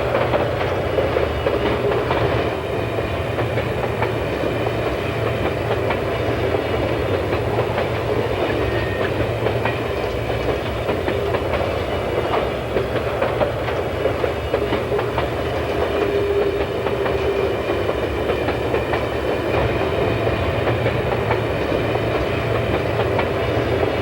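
An ET&WNC Tweetsie steam train rumbles steadily downgrade through a mountain gorge, its wheels clicking over rail joints in a continuous, loud passage with no break.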